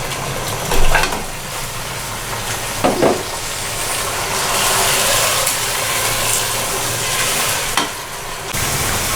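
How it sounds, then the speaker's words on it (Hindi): Meat browns in garlic-ginger paste in a pot for beef nihari, giving a loud, dense, continuous sizzle with occasional stirring scrapes, close up and with no speech over it. "इसको हल्का सा भूनकर फिर मैं इसमें गोश्त डालकर भूनती हूँ। ये देखिए, हम गोश्त भी इसके साथ डाल रहे हैं।"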